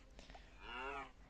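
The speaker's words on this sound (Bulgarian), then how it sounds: "Крава." A Minecraft cow lets out a single low, drawn-out moo, clear and fairly close, after a moment of quiet game ambience.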